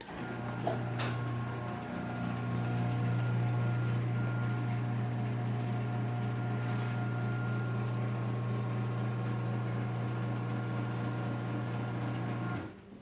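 A garage door opener that is not belt drive runs with the door disconnected, giving a steady mechanical hum with a strong low buzz and whining overtones that starts and stops on a hard edge, moderately loud and close.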